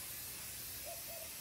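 Spray baste adhesive hisses onto fabric from an aerosol can, a short, steady, close spray burst.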